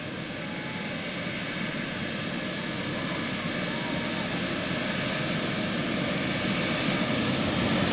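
Loud, steady engine roar from a skydiver jump airplane, a constant droning hum that fills the whole clip from close by, with a voice faintly beneath it.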